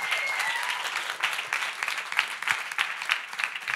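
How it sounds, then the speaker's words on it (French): A gathered audience breaks into steady, lively clapping that swells and dips slightly but keeps going throughout, with scattered sharper claps standing out from the crowd. "On peut encore les applaudir."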